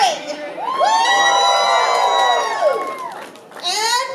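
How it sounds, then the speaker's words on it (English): Crowd at an anime convention panel cheering and whooping loudly, with high excited voices rising and sustained for a few seconds, then a brief dip and a second burst of cheers. "How about some cheering?"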